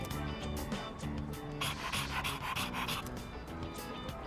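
A dog pants in the video game Persona 3 Reload: quick, rhythmic, breathy pants sound close and steady over continuous background game music.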